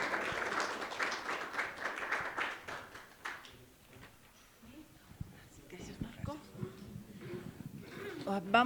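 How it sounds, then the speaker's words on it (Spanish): An audience at a Spanish-language investigative journalism forum breaks into applause, a dense burst of clapping that fades out midway before a voice speaks and scattered taps follow. "quiero pedirles a todos ustedes un fuerte aplauso para Adalid Contreras Baspineiro"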